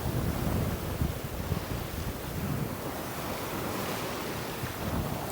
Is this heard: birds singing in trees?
no